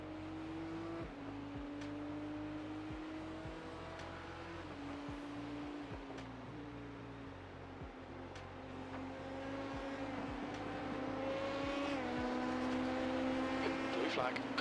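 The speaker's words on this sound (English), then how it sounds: "There's a faster class car approaching." Racing game cars at the 12 Hours of Spa, engine tones rising and shifting as a faster class car closes in from behind, a steady drone with gear changes, while people talk over team radio.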